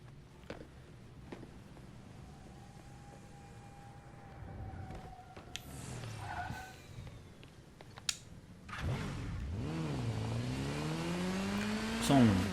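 A game motorcycle in Gotham Knights starts quiet, then its engine revs up and swoops in pitch toward the end, growing louder over a low background rumble, with a few sharp clicks along the way.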